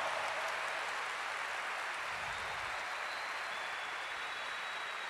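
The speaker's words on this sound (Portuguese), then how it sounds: "dê uma salva de palmas para Jesus" A church congregation claps for Jesus during a sermon, producing a dense, even hiss of distant applause that holds steady throughout, with a brief low rumble near the middle.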